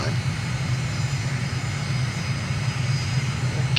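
An airplane engine in the Microsoft Flight Simulator game drones steadily while the aircraft taxis down a runway in Somaliland, a loud continuous hum with a low tonal band and no break.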